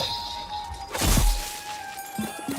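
Plants being cut down in the game Grow: Song of the Evertree, one sharp crunching snap over a faint steady tone, then a couple of small thuds after it, and no talking.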